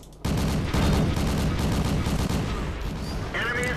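Autocannon firing in the tank game World of Tanks, a dense rapid burst of loud close shots starting abruptly and rolling on continuously, with faint game effects toward the end.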